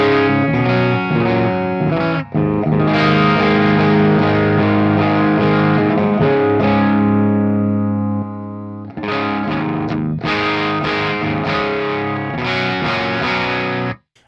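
Electric guitar through the Diamond Del Fuego amp model on an Axe Fx III, with the EQ bypassed: loud, distorted riffs and sustained chords, a brief drop near the middle, then more strumming before it cuts off, no voices.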